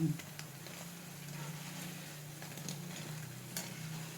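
Mung bean fritters frying in a pan and stirred steadily until light golden, a soft continuous sizzle with faint scraping, low and steady over a constant low hum.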